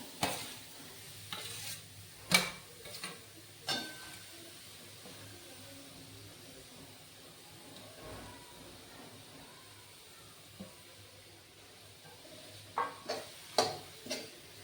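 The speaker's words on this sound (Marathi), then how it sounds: "आता मोर आवळा टाकते मी यात. तो शिजून घ्यायचा." Grated amla cooking in a spoonful of ghee in a wok, giving a faint, steady low sizzle broken by scattered clinks and scrapes of stirring, quiet throughout with no voices.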